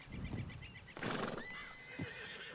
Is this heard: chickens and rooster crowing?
no